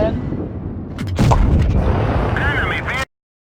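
A tank cannon in World of Tanks Blitz fires one loud, booming shot followed by a rumbling tail, with game sounds under it before the clip cuts off abruptly.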